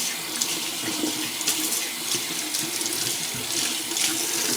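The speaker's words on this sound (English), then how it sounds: "I'm just gonna quickly get some fresh clean water in the sink here" Tap water runs steadily into a sink, a continuous hissing splash that stays even and close throughout with no voices.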